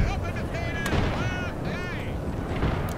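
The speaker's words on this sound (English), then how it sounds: "Okay, you guys can start firing now again" Musket volleys and artillery fire in Napoleon Total War, booming blasts and crackling shots in a busy battle mix, with a voice talking over the gunfire.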